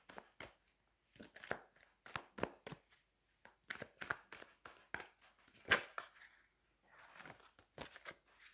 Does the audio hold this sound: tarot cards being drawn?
yes